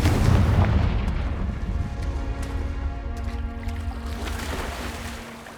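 Confringo fire spell explosion in Hogwarts Legacy, a loud booming blast up front that rumbles and slowly fades.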